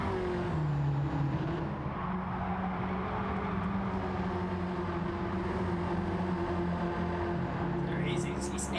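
Race car engines drone and shift pitch in a sim racing game, with steady mid-level whine and gear changes continuing under a commentator's voice.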